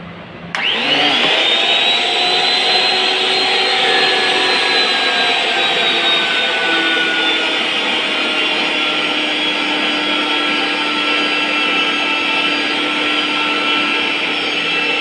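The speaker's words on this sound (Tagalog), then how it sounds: "yung mismong pang thread natin or yung motor, ibababa na rin natin to para automatic na siya maglagay ng thread" A motorized pipe threader cutting threads on 1-inch pipe starts with a sudden loud whine and then runs as a steady, close, high-pitched mechanical drone, unbroken for the whole stretch with no talking.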